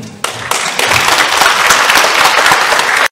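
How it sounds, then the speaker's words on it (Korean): Loud, full applause breaks out abruptly from a seated crowd at a Korean real-estate talk concert in Jamsil, swelling quickly and staying dense before cutting off sharply after about three seconds. "이거 박수타임입니다."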